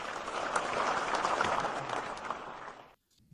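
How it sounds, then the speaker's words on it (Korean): An audience at a statistics lecture in Korea gives a dense, steady round of applause that lasts nearly three seconds and then cuts off abruptly to near silence. "큰 박수 부탁드리겠습니다"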